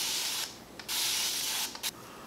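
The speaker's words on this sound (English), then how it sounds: "I'm just gonna spray the hair down." A plastic spray bottle mists water onto a curly lace front wig in two long bursts separated by short pauses and a quick squirt, close and hissing, with no talking.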